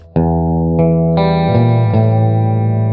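Distorted electric guitar plays a riff, a few sustained picked notes and chords ringing loud with effects and echo, no voices.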